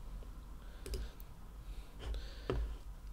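A computer mouse clicks a few times, sharp little ticks in quick pairs heard close against a faint room hum, with no talking.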